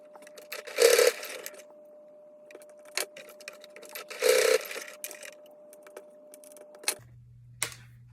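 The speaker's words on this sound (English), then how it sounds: "I am going to sew the edge and then up against here so it doesn't move." A sewing machine stitches the edge of a micro bag keychain with a D-ring connector: two short, quiet bursts of rapid mechanical whirring, separated by scattered clicks and ticks, then near silence with a low hum.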